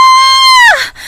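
A cartoon woman screams for help at midnight in a Hindi ghost story, a single loud, sustained high-pitched cry that wavers and then breaks downward into a ragged, fading wail.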